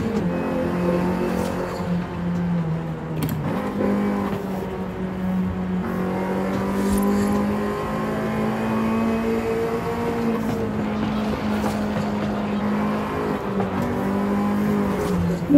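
A car in the racing game Forza Horizon 5 driven in an Initial D style, its engine droning steadily and rising and falling in pitch as it revs and shifts, continuous and up close.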